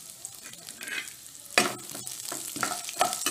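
Onions sizzle and crackle in a hot pan, with a few sharp scraping stirs cutting through the steady frying hiss.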